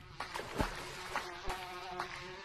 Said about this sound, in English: Okay, those dumb bees are out.